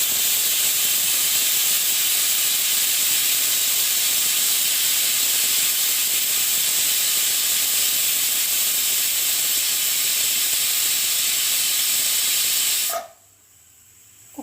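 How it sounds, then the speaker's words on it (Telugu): Pressure cooker cooking dal with tomatoes lets out a loud, continuous steam whistle that hisses steadily for about thirteen seconds, then cuts off abruptly. "కుక్కర్ విజిల్స్ వచ్చినాయి కదండి."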